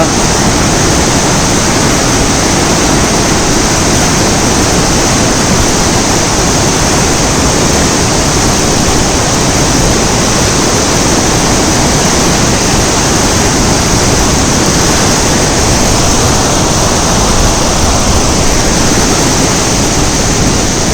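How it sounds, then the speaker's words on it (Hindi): A fast, dangerous river rushing through the Swat Valley below tall mountains, a loud unbroken roar of churning water that stays constant and close throughout, with no other sounds. "और नीचे ये बहता खतरनाक दरिया।"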